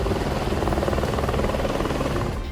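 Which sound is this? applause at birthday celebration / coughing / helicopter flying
helicopter flying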